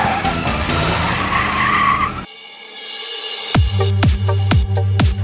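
A 1923 Ford Model T Touring engine fires up after a brief hush and settles into a loud, close idle with a steady, regular chugging pulse, following a burst of unrelated tire-squeal noise.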